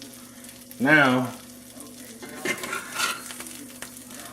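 A Reuben sandwich frying in a hot skillet, a steady soft sizzle with a few clinks and scrapes from a spatula, while someone talks briefly over it.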